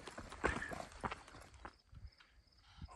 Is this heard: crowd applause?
no